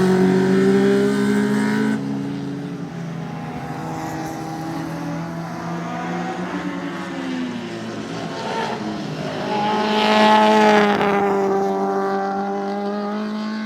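Abarth cars racing on the small Varano racetrack in the Apennine Mountains, engines droning steadily with a louder surge of revving as one passes closer near the end; no talking.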